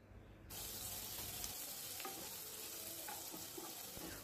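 A chopped mixture with salt, turmeric and chilli powder sautés in a pan, a constant close sizzle after a brief quiet start, with a few stirring knocks.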